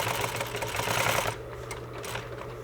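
A sewing machine runs in a steady, close whir while stitching a circular seam, then cuts off partway through, leaving quieter handling sounds.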